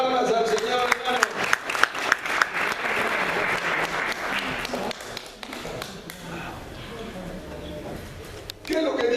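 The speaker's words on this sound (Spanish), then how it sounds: "Den palmas al Señor, hermano." Church congregation clapping during a Spanish-language evangelistic service, sharp rhythmic claps under a speaking voice, thinning out toward the end.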